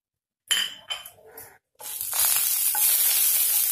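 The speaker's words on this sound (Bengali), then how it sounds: "ফোড়ন দিয়ে দিচ্ছি দারচিনি, এলাচ" Whole cinnamon, cardamom and cloves hit hot oil for tempering a vetki fish korma after the fish is fried: a few clinks and spoon sounds, then a loud, steady sizzle building and holding to the end, no voices.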